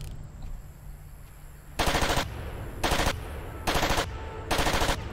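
Gatling gun fire in the video game Far Cry, four loud bursts of rapid shots separated by short pauses, over a quiet ambient bed with faint insect-like chirping.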